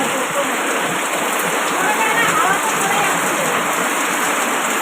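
Dense, steady rush of heavy water pouring and splashing during rain, continuous and fairly loud throughout with no voices.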